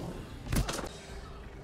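Video-game gunfire: two quick, sharp blasts in rapid succession, fairly close, over a low ambient background.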